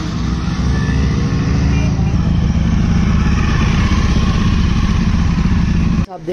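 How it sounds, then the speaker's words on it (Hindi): A motorcycle engine rumbles loudly and steadily nearby as the bike arrives, a continuous low throbbing drone that holds for several seconds before briefly cutting away at the end. "गाइस आप देख सकते हो ये रवि भैया आ रहे हैं बाइक लेके"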